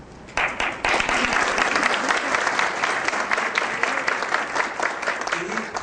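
Sustained audience applause at a formal Brazilian ceremony honoring a minister, starting abruptly after a brief lull and continuing as dense, loud clapping with some crowd noise mixed in.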